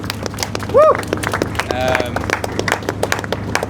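A run club crowd applauds itself with a burst of dense, close clapping, and a short whooping cheer rings out near the start before the clapping carries on steadily.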